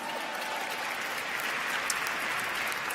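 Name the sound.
audience applause at awards ceremony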